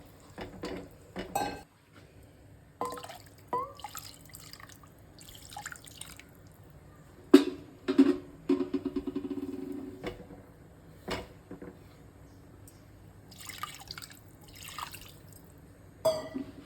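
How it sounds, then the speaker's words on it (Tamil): Water is poured into a pan of jalebi fish curry in short splashing bursts, with metal clinks from the pan and utensils between quiet pauses, all close by. "இந்த டைம் வந்து நான் தண்ணியெல்லாம் ஊற்றிட்டு போகிறேன்"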